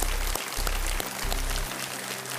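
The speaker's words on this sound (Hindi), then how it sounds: "एक बार तालियों के साथ इनका स्वागत किया जाए।" A studio audience claps for a guest on the Hindi quiz show KBC India, a loud, dense burst of applause that carries steadily throughout.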